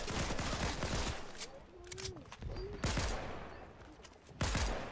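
Gunfire in a shooter video game, with bursts of rapid shots aimed at the player, loud and close, firing in clusters separated by brief lulls.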